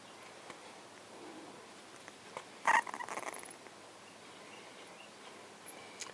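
A small male puppy gives a brief yelp and a short run of faint whimpering or growling noises close by, over otherwise quiet room tone.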